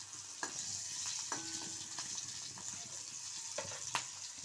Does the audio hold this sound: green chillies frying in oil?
yes